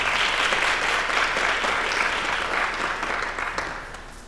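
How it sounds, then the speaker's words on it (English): An audience at a debate event gives a round of applause, a continuous wash of many hands clapping that slowly fades toward the end. "please give yourself a round of applause on that also"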